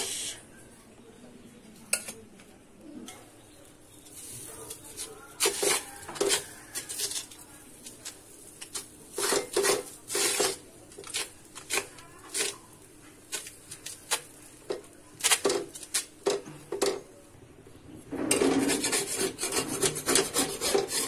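Food pressed down on a tawa griddle with a spatula: repeated rasping rubs and scrapes come in short uneven strokes, growing busier toward the end, close and fairly loud.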